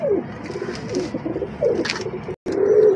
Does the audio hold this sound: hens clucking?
no